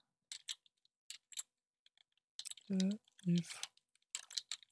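Code being typed on a computer keyboard comes through as short bursts of soft key clicks with pauses between them, and a voice speaks briefly in the middle.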